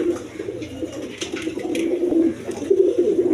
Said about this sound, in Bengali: এইখানে এক পেয়ার কবুতর আছে দেখেন শার্টিং কবুতর হোয়াইট কালারের শার্টিং